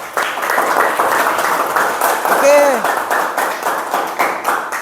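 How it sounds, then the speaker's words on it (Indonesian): Classroom audience of teachers giving a sustained round of steady, close applause for several seconds, with a brief spoken word over the clapping. "Tepuk tangan semuanya."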